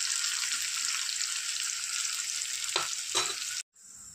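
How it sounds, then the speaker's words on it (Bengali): Cooked rice frying lightly in a pan until crunchy for fried rice, giving a continuous soft sizzle with a couple of brief stirring scrapes near the end before a sudden cut. "খুব বেশি ভাজবো না, হালকা ক্রাঞ্চি ভাব থাকবে এরকম ভেজে নেব।"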